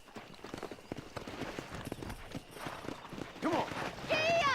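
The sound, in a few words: horse galloping in video game Red Dead Redemption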